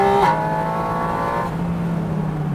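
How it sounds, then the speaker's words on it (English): Porsche 718 Spyder RS with a GT3-derived flat-six and an intake right behind the seats gives a loud, sustained, harmonic engine drone, its pitch shifting as the revs change. "an unbelievable intake system that just hoovers in the air from right behind your shoulders"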